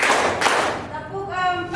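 A grade 8 class in Indonesia claps hands in a counting pattern: two quick bursts of clapping at the start, then a voice takes over.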